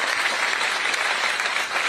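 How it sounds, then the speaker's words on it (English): Audience at a political town hall applauding a ten-year-old girl, a dense, steady wash of many clapping hands sustained for the whole moment. "Let's give Grace a round of applause"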